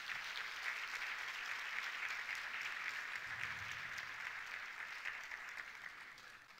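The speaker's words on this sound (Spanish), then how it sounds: "por quienes pido un fuerte aplauso" Sustained applause from an audience in a bicameral hall during a political training event honoring the first women students, steady and dense clapping fairly distant, with a brief low murmur partway through.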